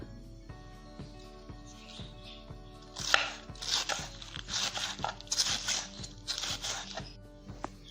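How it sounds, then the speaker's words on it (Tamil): Repeated knife strokes chopping cabbage into fine long strips on a board, in quick bursts that grow louder and denser partway through, with a steady hum underneath. "நல்லா இப்படி நீள் நிலமாக வெட்டிக்கோங்க பொடிசாக நீள் நிலமாக வெட்டிக்கோங்க"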